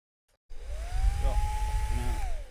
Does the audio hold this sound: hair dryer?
yes